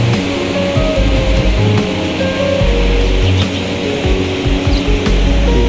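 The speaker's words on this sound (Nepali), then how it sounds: "छिटो छिटो पानी आइरहेको छ।" Heavy rain pours steadily under a dark sky beside a forest, a dense, continuous wash of hiss and patter that stays close and loud throughout.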